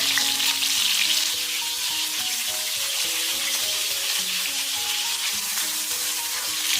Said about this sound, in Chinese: 一锅我们煎不完，我们分2锅煎。